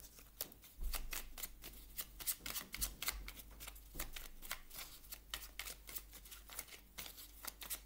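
Oracle cards from a small life-mission deck being shuffled, a close run of quick rhythmic riffling bursts that repeat steadily, with no talking.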